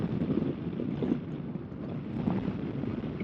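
Steady rushing wind roar from a 2018 Kawasaki Vaquero motorcycle cruising at 110 km/h in sixth gear around 3,000 RPM, loud and continuous with no talk.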